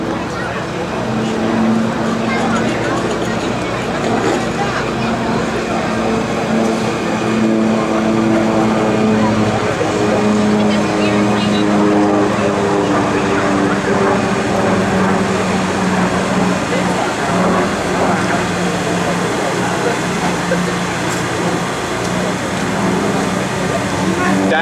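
An SB2C Helldiver dive bomber, a piston-engined aircraft, drones loudly and steadily throughout at an air show open house, with a rough, even engine roar and no clear rise or fall.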